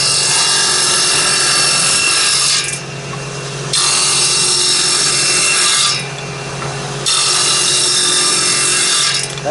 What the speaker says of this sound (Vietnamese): em sẽ pha ra những cái tấm như thế này